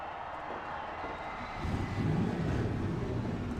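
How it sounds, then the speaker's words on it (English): The engines of 42 stock cars fire up at the start of the Pennzoil 400. A broad roar swells partway through and then holds as a steady rumble. "Engines are fired."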